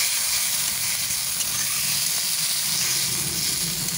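Ginger and cumin paste with a little chili powder sizzling in hot oil with potatoes, a steady broadband hiss and crackle that holds evenly throughout, close by with no talking.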